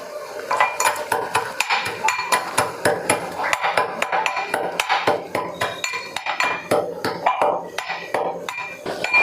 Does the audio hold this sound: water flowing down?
no